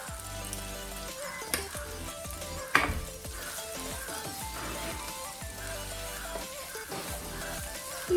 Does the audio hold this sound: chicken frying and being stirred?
yes